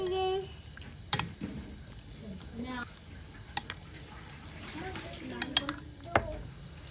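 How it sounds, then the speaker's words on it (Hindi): A spoon clinks and scrapes in a bowl while chicken is mixed with soy sauce and chilli sauce for a marinade, with a few sharp knocks standing out over quiet background noise. "अब इसको हम अच्छे से मिक्स कर लेंगे"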